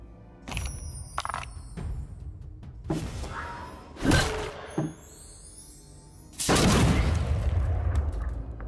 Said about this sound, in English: I was so confused about this cannon shot.